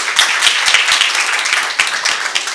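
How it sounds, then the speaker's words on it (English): An audience at a wildlife corridor science summit gives the panelists a round of applause: dense, loud, continuous clapping with scattered sharper claps, close and alone without talk. "Let's give a round of applause to all of our panelists"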